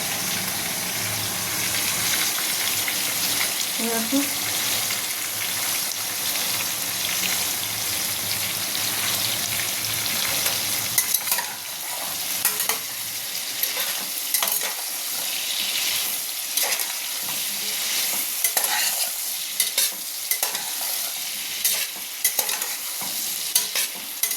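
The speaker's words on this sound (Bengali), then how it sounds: "হলুদ দিয়ে হালকা নাড়াচাড়া করে নিলাম" Khichuri masala with a spoonful of turmeric is fried and stirred in a pan, starting as a dense steady sizzle that thins out midway into lighter crackling broken by repeated scraping and tapping stirs, close and without voices.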